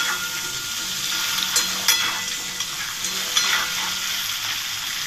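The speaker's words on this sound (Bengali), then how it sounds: "লবণটা দিয়ে ভালো করে আলুটাকে লাল লাল করে ভাজতে হবে" Potatoes fry in a pan with salt and turmeric, giving a steady close hiss with occasional stirring scrapes and small pops, no voices.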